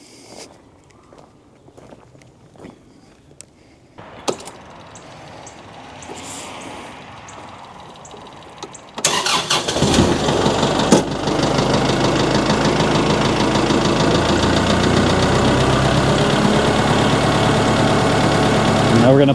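A four-wheel-drive vehicle's engine starts after some quiet shuffling and then runs loudly and steadily nearby, a continuous rough mechanical rumble.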